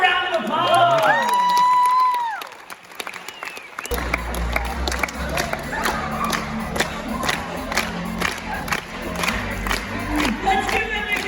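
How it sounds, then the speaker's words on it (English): An audience at a student council state convention bursts into loud applause and cheering, with whoops and shouts over dense clapping right after a high-pitched squealing sound. "Give her a round of applause!"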